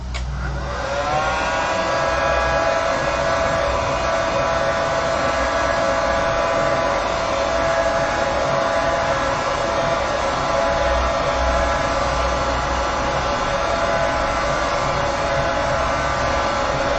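A hair dryer blows over a freshly painted watercolour of poppies. It gives a loud, steady whirring roar with a high whine, running without a break the whole time.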